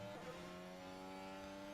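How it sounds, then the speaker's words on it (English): A McLaren Formula 1 car engine holds a steady high-pitched whine at idle revs before a practice session, heard faintly and at a distance with no talk over it. "That McLaren are revving Piastri's car, it seems."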